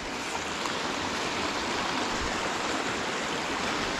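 A river stream rushes steadily over stones near a waterfall in Tafí del Valle, a dense, continuous broadband wash of flowing water, close and loud, with no voices.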